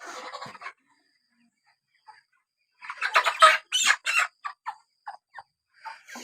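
Chickens on a poultry farm, part of a flock of 420 broilers, give a brief burst of squawks and clucks near the start, then a louder run of squawking and flapping-like calls toward the end, close to the microphone.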